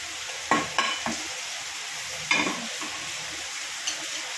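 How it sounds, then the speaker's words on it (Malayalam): Fried mustard seed tempering tipped into a green banana curry on the stove, giving a few sharp sizzling bursts and stirring scrapes near the pan, then a softer hiss. "എന്നിട്ട് നമുക്ക് ആ കടുക് വറുത്തത് അതിലേക്ക് ഇട്ട് കൊടുക്കാം"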